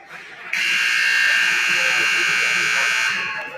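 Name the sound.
ice hockey rink buzzer sounding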